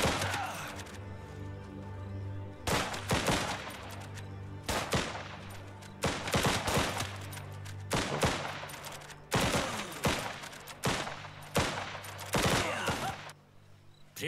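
Bursts of gunfire in the video game Last Train Home, loud repeated volleys and rapid automatic fire in clusters separated by brief pauses, each burst with sharp cracks and echoing tails.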